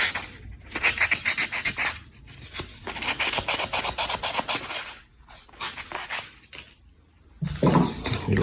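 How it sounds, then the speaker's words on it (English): A small piece of sandpaper rubbed by hand over a tool bought at an estate sale gives close, rasping strokes in quick rhythmic bursts, broken by short pauses. "Got a little piece of sandpaper here."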